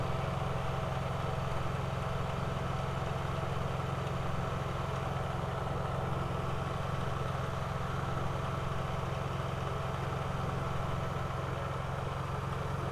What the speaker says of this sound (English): I'm now going to turn on the generator.